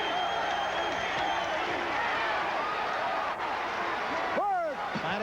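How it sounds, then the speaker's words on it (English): A dense boxing-arena crowd roars and cheers steadily during a heavyweight bout between two 190-pounders, a loud continuous wash of voices with a few sharper shouts rising near the end. "and the crowd loves it."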